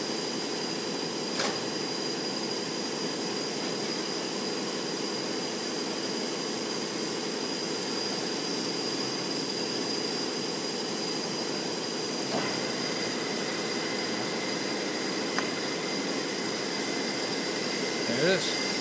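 A Toshiba-Shibaura BFT-13C horizontal boring mill runs with a steady, broad mechanical hum and whine, the noise even throughout with a few faint clicks, fairly quiet and unchanging.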